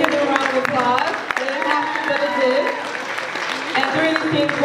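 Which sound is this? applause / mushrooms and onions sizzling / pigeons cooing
applause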